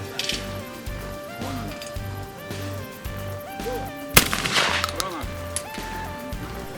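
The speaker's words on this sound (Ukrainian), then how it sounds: "І ось нарешті перший влучний постріл." A sharp, loud rifle gunshot cracks once at a hunting shooting tournament, over a background of music and voices, with a few fainter pops around it.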